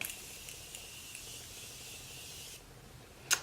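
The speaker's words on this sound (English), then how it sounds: "And then finish with my Morphe setting spray." A steady hissing spray of makeup setting spray lasting a couple of seconds, close and fairly quiet, ending with a brief clicking sound.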